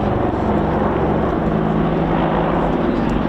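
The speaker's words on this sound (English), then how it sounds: "Shortly, you'll see the Wildcat enter rapid climb." Wildcat helicopter engines, each over 1,300 horsepower, roar in a rapid climb at an RAF Cosford airshow, a loud steady drone with a low rotor throb heard continuously throughout.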